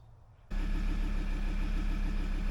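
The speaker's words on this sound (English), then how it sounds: "as you can hear, I've started the car and success." A Ford Ranger engine cranks and catches abruptly, then settles into a steady, loud, close idle with a constant low rumble.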